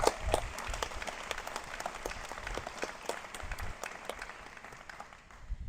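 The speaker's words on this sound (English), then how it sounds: "can we give another round of applause to that amazing national anthem by Sergeant Lewis Turner?" An audience at a military retirement ceremony gives a round of applause after the national anthem; the dense patter of clapping is faint and distant and fades toward the end.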